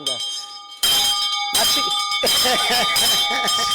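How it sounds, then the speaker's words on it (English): A bell rings out in a bright, sustained tone and is struck again several times in succession, each strike ringing on while people speak over it. "I want to ring the bell for you."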